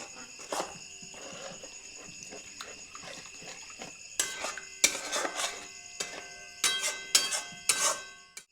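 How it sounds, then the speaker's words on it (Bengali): Spoon scraping and clinking against a pan while stirring water into paneer masala, quiet irregular scrapes at first, then louder clustered clanks in the final seconds, with no talking. "জল দিয়ে ভালো করে মিশিয়ে নেব।"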